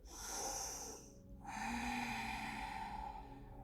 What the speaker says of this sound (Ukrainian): Вдих.